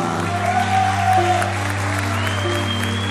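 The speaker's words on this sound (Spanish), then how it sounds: "Quiero que la recibamos con un fuerte aplauso" Studio audience applauding on a TV talk show, clapping under a steady tonal hum and music-like drones, moderately loud and continuous for a few seconds.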